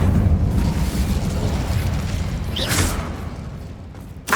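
An Incendio fire spell in Hogwarts Legacy bursts out as a loud, close whooshing blast that rolls and fades over several seconds, followed by a short flare near the end.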